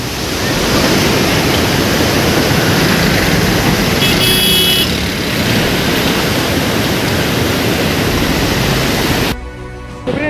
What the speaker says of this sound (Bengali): দেখতে পাচ্ছ যে জলটা সমুদ্রে ঢেউয়ের মতো আসছে একদম